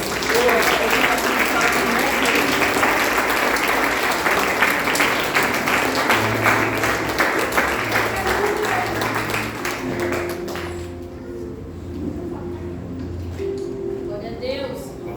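A church congregation at a family worship service claps in thanks, steady loud applause that thins out toward the end while a low voice and music-like tones continue underneath.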